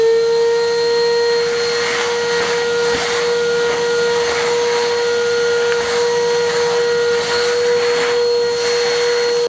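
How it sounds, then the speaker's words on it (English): A Henry vacuum cleaner sucks dust off an old stone wall in a Spanish farmhouse, a loud, steady motor drone running nonstop for the whole stretch with faint scraping as the nozzle moves. "So it's all vacuumed off."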